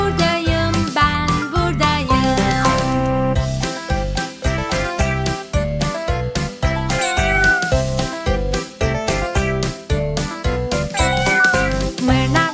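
A cheerful Turkish children's song with steady rhythmic instrumental beats and sung melody, where a singing voice imitates a cat's meow in playful repeated phrases.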